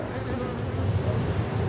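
Honey bees buzz steadily and densely around a nectar-filled frame pulled from a hive, a close, continuous drone with no pauses.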